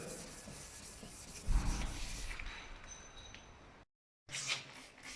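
Close, steady rubbing of 1200-grit sandpaper wet sanding back and forth over a car headlight, cutting out briefly before the scrubbing resumes.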